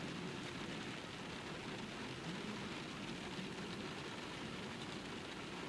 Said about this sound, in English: Yeah, it's raining outside.